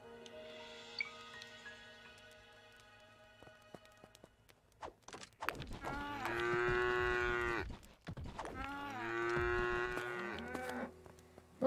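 Cow in the video game Craftopia lets out two long, loud moos back to back, with faint footsteps and soft game ambience beforehand.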